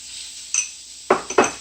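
Veggies sizzle in a pan as balsamic vinegar goes in, with a few sharp utensil clinks and scrapes against the pan over a steady frying hiss.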